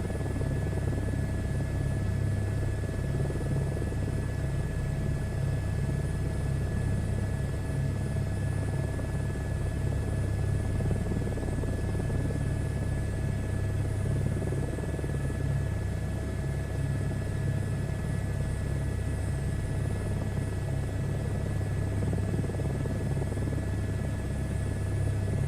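An H-225 helicopter flies in the MSFS 2024 flight simulator game, giving off a loud, steady rotor and engine drone with a low rumble and a constant whine that holds unchanged throughout.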